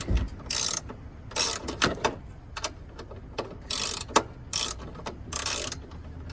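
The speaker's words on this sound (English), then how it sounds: "Just screw this down all the way." Ratcheting clicks from tightening the battery hold-down on a 2016 Toyota Camry come in several short bursts with pauses between them, close and moderately loud.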